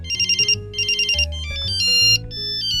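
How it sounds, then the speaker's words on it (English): An old mobile phone's electronic ringtone plays loud and close: rapid beeping bursts in two groups, then a rising melody of synthetic tones. "there are keypad tones and there are ringtones in here"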